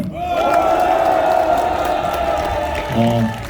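Crowd of attendees at a patriotic Save Korea rally outside Mokpo Station applauding and cheering steadily, a loud, dense wash of claps and voices that swells again near the end.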